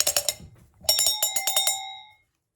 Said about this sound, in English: So these are usually listed as Alpine cowbells and Swiss